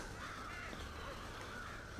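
A crow cawing in the Red Dead Redemption video game, faint and distant against a steady outdoor ambience, with no talking.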